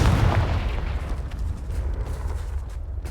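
Confringo blasting spell explodes in Hogwarts Legacy: a heavy boom at the start, then a loud, rolling rumble that fades slowly over several seconds.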